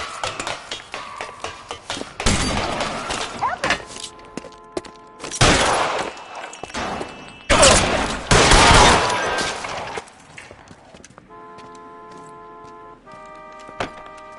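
Bursts of gunfire ring out in an LA Noire shootout, several loud volleys of rapid shots spread across the scene, separated by quieter gaps with a faint mechanical hum near the end.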